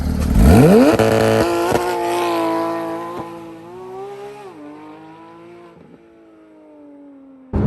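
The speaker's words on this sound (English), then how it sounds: "a high revving and a glorious sound out of that flat six engine" A high-pitched 2014 Porsche 911 GT3 flat-six engine revs hard, climbing sharply, then holds a sustained wail that eases and fades as it drives on along back roads.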